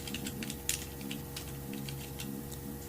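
Keys clatter in a quick, uneven burst of typing on a computer keyboard, close and moderately quiet, with no one speaking.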